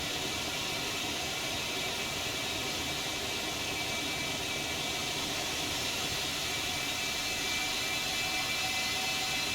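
A Citation X business jet roars steadily through its takeoff run in the X-Plane 12 flight simulator, with a loud, continuous broadband engine rush that stays constant for the whole stretch and has no talk over it.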